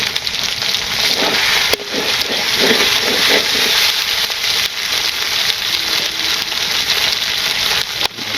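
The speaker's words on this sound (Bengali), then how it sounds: "আস্তে আস্তে একটু ভাজি হোক।" Meat with ginger and garlic paste frying in a pan, a loud continuous sizzle close by with a few sharp knocks of a utensil, no talking.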